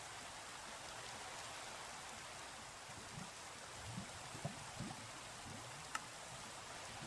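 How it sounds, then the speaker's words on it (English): Rain in a video game, a faint, even hiss of falling rain with a few soft drop ticks scattered over it, steady and unbroken. "I'll sleep through the night because it's raining, and I don't like the rain."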